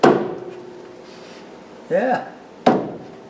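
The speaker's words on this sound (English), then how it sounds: "Guess a hammer will work for whacking." A hammer knocks a rubber door strip into place on a junkyard Cadillac. Two sharp, close whacks come at the start and near the end, a short creaky rubbing sound falls between them, and a voice says one brief word.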